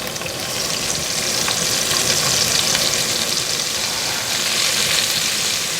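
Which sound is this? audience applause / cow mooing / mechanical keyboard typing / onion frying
onion frying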